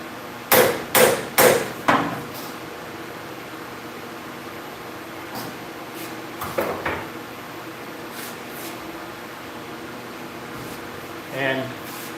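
A clean hammer taps an aluminum part into place on a CNC mill spindle setup: three sharp, quick knocks close together, then a couple of lighter taps later over a steady machine-shop hum.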